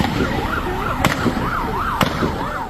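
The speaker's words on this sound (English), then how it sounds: "Listen to the sound of gunfire as the nightmare unfolds." Two sharp, loud gunshots crack about a second apart during a real shooting, recorded on a phone, over a wailing siren that rises and falls continuously in the background.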